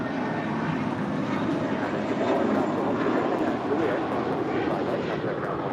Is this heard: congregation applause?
no